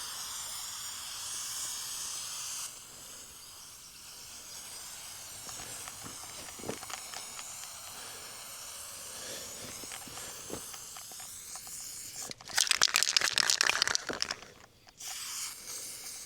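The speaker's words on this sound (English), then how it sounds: "Time to get spray painting." A spray paint can hisses in short and long bursts while a pond outline is marked on the ground in a backyard, close and quiet, with a loud sustained burst near the end and soft rustling footsteps between sprays.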